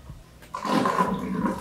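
Water gushes from an aquarium siphon hose onto a waterproof Vessi Weekend shoe during a reef tank water change, a steady splashing pour starting after a quiet moment and continuing loud and close.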